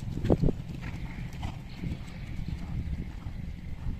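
A horse gallops during a riding lesson, its hooves beating out a steady rhythmic clip-clop at moderate distance across the whole stretch.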